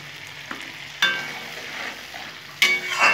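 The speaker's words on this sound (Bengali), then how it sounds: "ভালো করে নেড়ে নেব।" A pan of turmeric and poppy seed paste is stirred, a steady soft sizzle running underneath as a few scraping strokes and clinks break in up close.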